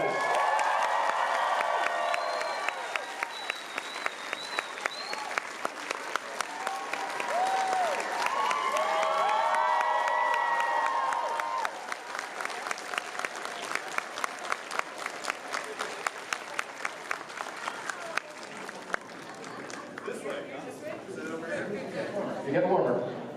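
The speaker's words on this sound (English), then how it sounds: "Ladies and gentlemen, give a round of applause." Convention crowd at MEGACON 2021 cheering, whooping and clapping for the My Hero Academia cast, a long, loud roar of applause with shouts rising over it and a steady run of sharp claps.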